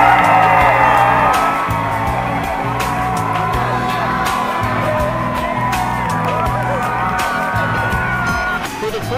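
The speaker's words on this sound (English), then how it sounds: "some excited young men and an excited crowd here tonight" A large crowd at a high school sports game roars and whoops nonstop, loud and dense, with shouts and cheers layered throughout.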